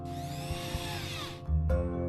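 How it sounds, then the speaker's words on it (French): A power screwdriver drives screws fitted with steel washers into a wooden board, a steady whirring motor that shifts pitch, briefly dips, then resumes under heavier load, close and loud with no speech. "On visse les vis dans la planche en laissant un petit espace."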